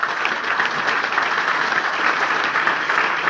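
Steady, dense applause from an audience at an IMC business training seminar, many hands clapping evenly and fairly loud with no break.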